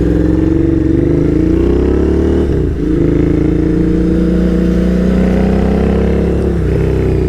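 A Royal Enfield motorcycle, a Bike Shed collaboration build on brand-new tyres, pulls away and accelerates with a steady, loud, close engine drone that rises in pitch, with a brief dip near the middle before climbing again.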